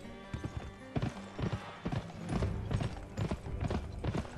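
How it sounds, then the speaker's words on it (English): Horse hooves clip-clopping in a video game, a brisk, uneven run of close hoofbeats lasting a few seconds. "Hop on the horse."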